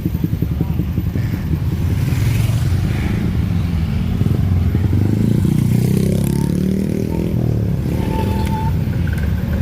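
Motorcycles and cars crawling uphill in congested traffic on a road near Sentul, with a continuous loud engine drone, passing revs and some rattling, all heard up close from the roadside.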